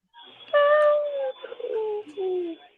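A cat meows near the microphone, two or three drawn-out, tonal meows in quick succession, loud and clear against a quiet background.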